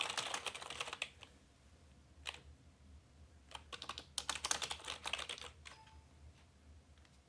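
Typing on a TeckNet X300 2.4GHz wireless keyboard: quick bursts of close, crisp key clicks with pauses between flurries, heard alone in a quiet room.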